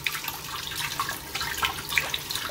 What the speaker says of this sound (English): we're going to rinse this avocado seed off